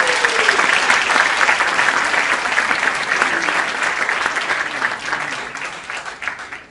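An audience at a seminar on banking arbitration gives a loud, sustained round of applause, dense clapping from many hands that gradually tapers over nearly seven seconds.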